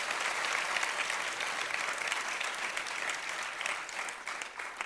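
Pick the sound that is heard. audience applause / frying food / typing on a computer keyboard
audience applause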